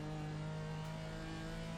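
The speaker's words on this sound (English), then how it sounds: "Sounds alright, this thing as well when it's revving." A race car engine in the iRacing sim, running an IMSA Pilot Challenge race at Brands Hatch, revs with a continuous, steady, harmonic drone held at high RPM, close up and with no talking over it.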